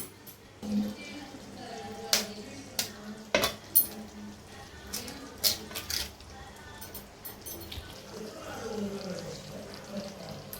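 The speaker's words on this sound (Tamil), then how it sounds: "4 முட்டை இதை உடச்சி வச்சுக்கணும்" Four eggs cracked for egg bhurji in a kitchen: several sharp, close taps of shell against a hard edge spaced a second or so apart, with faint clinks and handling noise between and a sizzle in the background.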